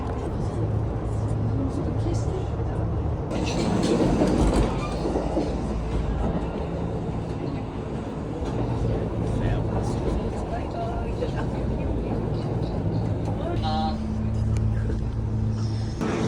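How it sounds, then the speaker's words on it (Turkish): Steady rumble and rolling hum inside the moving Aoniyoshi train to Kyoto, Japan, with people talking over it throughout. "Çok güzel bir trenle Kyoto'ya gidiyoruz"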